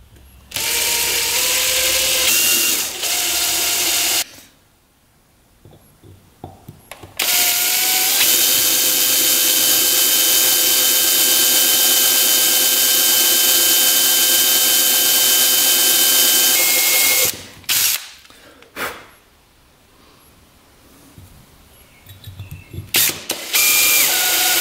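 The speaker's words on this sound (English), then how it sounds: "let's drill those two holes out." Small drill bit, about 0.076 inch, boring two holes through a part for a rare two-stroke race quad, heard as two loud sustained whining runs with a quiet break between them, then brief mechanical handling noises.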